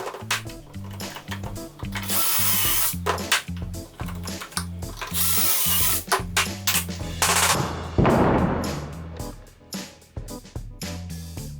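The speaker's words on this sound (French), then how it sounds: "J'utilise un guide de perçage qui m'aide à introduire mes vis avec le bon angle et la bonne profondeur." A power drill drives screws through a pocket-hole drilling guide into wood, giving repeated loud bursts of whirring, rattling spin separated by short pauses and clatter.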